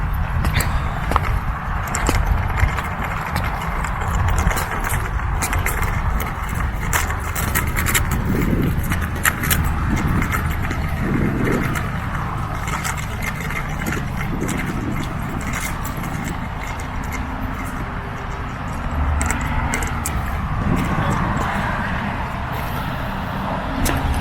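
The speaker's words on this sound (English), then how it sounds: "So that is what it sounds like with me riding on my scooter on the built-in mic with the camera" A scooter ride captured on a camera's built-in microphone with no windscreen, a continuous dense roar of wind buffeting and road noise with engine hum, loud and unbroken for the whole stretch.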